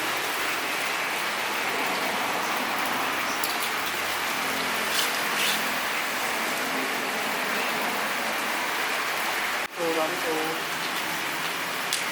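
Steady, dense rain pours down for the whole stretch, a loud even hiss with a brief dropout near the end and faint voices beneath it.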